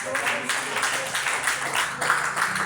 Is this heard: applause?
yes